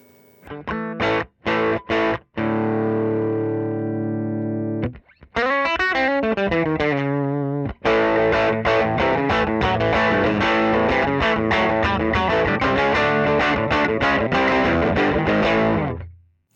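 Overdriven electric guitar, a Fender Telecaster on the bridge pickup, with a few sharp stabs, then sustained gritty chords and fast, driving strummed riffs, loud and alone.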